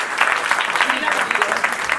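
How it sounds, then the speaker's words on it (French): Hall audience at a municipal New Year's wishes ceremony in Pussay breaking into steady, dense applause, many hands clapping close by throughout, with a murmur of voices underneath. "Je peux l'applaudir."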